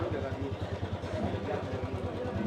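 A used Royal Enfield Bullet with 18,000 km on it, in good condition, idles with a steady low thumping beat at a vehicle auction yard, close by, with people talking over it.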